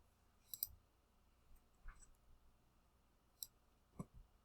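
Computer mouse clicks while selecting cells in an Excel spreadsheet: a handful of sharp, close, isolated clicks spaced irregularly across a quiet background, with no talking.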